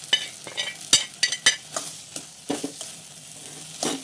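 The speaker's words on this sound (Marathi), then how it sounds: "तेलामध्ये थोडंफार भाजून घ्यायचं फ्राय करायचं" Potatoes and green beans frying in oil in a home kitchen, with a spatula stirring and scraping the pan in repeated bursts over a soft steady sizzle, close and moderately loud.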